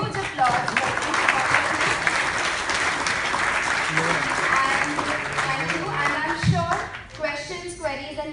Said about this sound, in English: I would really request you to have the last round of huge applause.